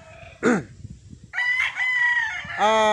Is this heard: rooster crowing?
yes